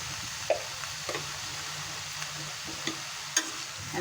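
Pumpkin greens, seasoned with salt and a little turmeric, frying in a pan with a faint, steady sizzle and a few sharp scrapes and taps of stirring scattered throughout.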